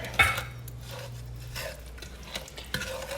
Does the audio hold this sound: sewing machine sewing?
no